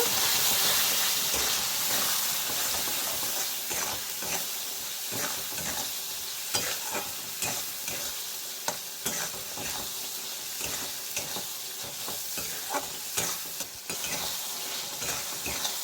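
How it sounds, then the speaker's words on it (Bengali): Spice masala of chilli and coriander powder with a splash of water, stir-fried in a pan with tomato, sizzling and hissing steadily with frequent scraping stirs, loud and close throughout. "মশলাটা ভালো করে কষাই নেব"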